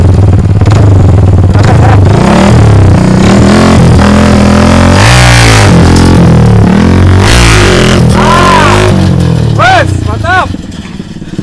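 A motorcycle engine revs loudly and close by during a rider's first wheelie practice, its pitch rising and falling with the throttle, while people talk and call out over the engine noise.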